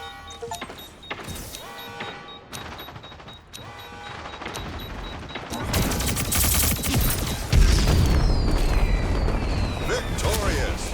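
Assault rifles fire in the shooter game Splitgate 2. Scattered shots start quietly, then turn into dense, loud bursts of rapid automatic fire and booming impacts that run to the end, with a voice faintly under the gunfire.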